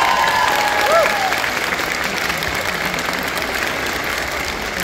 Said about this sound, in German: Vielen Dank für deine Performance und das ist ein Applaus.